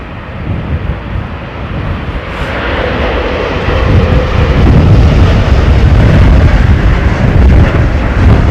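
A jet aircraft lands at London Heathrow Airport in windy conditions, its engine roar swelling from a distant rumble to a loud, broad close roar mixed with buffeting wind noise.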